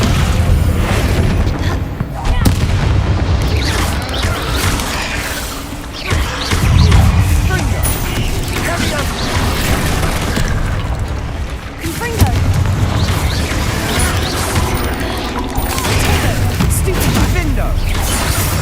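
A Confringo fire spell blasting a barricade in Hogwarts Legacy brings a dense, continuous roar of booms and crashing debris, loud and sustained, with game voices mixed in.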